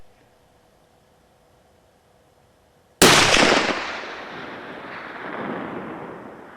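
A deer rifle fires a single shot during test shooting outdoors in Arizona: one sudden, very loud crack after a few seconds of near silence, followed by a long rumbling echo that slowly fades.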